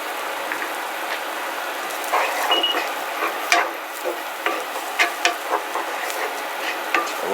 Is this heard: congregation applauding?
no